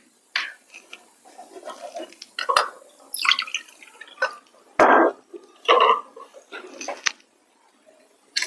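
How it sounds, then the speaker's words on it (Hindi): Half a cup of water is poured into a pan holding a cup of sugar on an induction cooktop, making syrup for jalebi. It comes as a series of close, separate splashing and clinking bursts with short quiet gaps between them. "आधा कप पानी ऐड करते हैं।"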